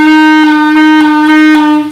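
One sustained clarinet note, an F played with wrong fingering, loud and steady with a slightly buzzy, unsettled tone that falters before it fades.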